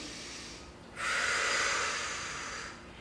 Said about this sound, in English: Take a deep breath here.